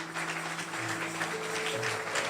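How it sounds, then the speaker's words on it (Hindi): A crowd at a church gathering in Sharjah claps continuously in dense, even applause, with a low tonal hum running underneath. "जोरदार तालियां जी"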